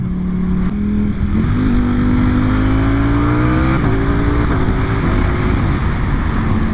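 A Ducati Panigale V4 S superbike with a full titanium slip-on exhaust revs hard and climbs through several gear changes, the pitch rising then dropping with each shift, continuous and close.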